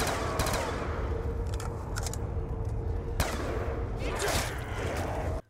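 Sustained automatic fire from an M27 rifle in Call of Duty Zombies, a dense continuous rattle of rapid shots with occasional sharper bursts, loud and steady throughout before cutting off abruptly at the end.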